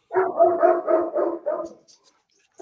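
Several dogs bark in a quick run of rough, loud yaps lasting under two seconds, with a short pause before another bark breaks in at the end.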